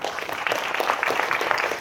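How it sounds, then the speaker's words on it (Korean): A crowd at a lecture hall talk applauds in a dense, steady wash of many hands clapping at once. The applause sounds moderately loud and continuous for a couple of seconds with no voices on top. "여러분 박수 한번 부탁드립니다."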